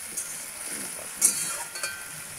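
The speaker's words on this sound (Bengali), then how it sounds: "ভাজা হচ্ছে" Vegetables fry in a pan with cumin, turmeric and green chilli, giving a soft, quiet sizzle with a few scraping stir sounds and brief crackles.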